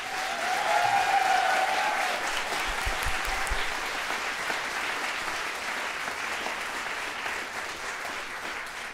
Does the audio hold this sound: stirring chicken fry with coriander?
no